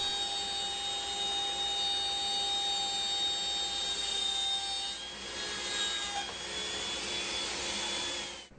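A wood router fitted with a 1/4 inch bit cuts all the way through a board, producing a steady high-pitched whine with rough cutting noise, close and continuous, easing off at the very end.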